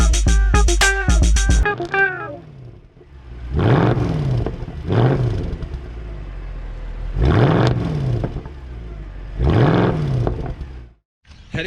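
A 2019 Porsche Macan's engine revs hard several times with a throaty exhaust note, each rise and fall clearly audible and loud, after an opening burst of sharp clattering rev blips.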